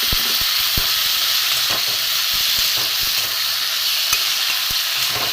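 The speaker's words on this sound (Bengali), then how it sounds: "একটু মিক্স করে নিয়ে ভেজে নিই মশলাটা" Spice paste with ginger and other ground spices fries among vegetables for sukto, a loud, steady sizzle close up, with short scraping strokes from stirring throughout.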